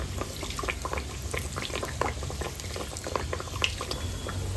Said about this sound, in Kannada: ಬಿಸಿ ಎಣ್ಣೆನ ಚಿರೋಟಿ ಮೇಲೆ ಹಾಕ್ತಾ ಇದ್ದರೆ ಈ ರೀತಿಯಲ್ಲಿ ಲೇಯರ್ ಆಗಿ ಚೆನ್ನಾಗಿ ಬರುತ್ತೆ